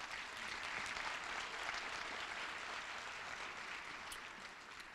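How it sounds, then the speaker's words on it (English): Steady, dense applause from an audience at a Martin Luther King Jr. Day commemoration at Queens College, a continuous wash of many hands clapping at even loudness that eases slightly toward the end. "You can clap."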